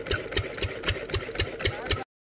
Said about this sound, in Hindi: तो अभी इंजन स्टार्ट हो चुका है, आप लोग देख सकते हैं।